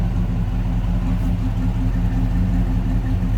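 A 1980 Chevrolet Camaro Z/28 V8 engine runs steadily nearby, a deep low rumble at a constant idle with no revving, heard alone without talk.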